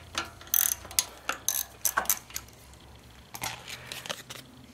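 Ratchet loosening the two coil mounting bolts on a small engine being readied for resale, heard as several quick bursts of close, sharp clicking with short pauses between them.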